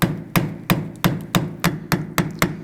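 Flathead screwdriver being tapped around the edge of a wheel's center dust cap on a 2008-2011 Ford Focus rear spindle, ringing metallic strikes at a steady rhythm, about nine close, loud blows with no talk.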